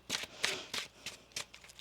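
Tarot cards are shuffled by hand in about five quick riffling bursts, close and fairly quiet, with short pauses between them.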